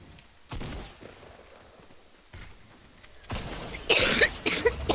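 Pistol shots in the video game Fortnite crack out in a few separate bursts, sharper and louder toward the end, with quiet gaps between them.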